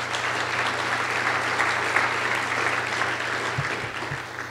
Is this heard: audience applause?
yes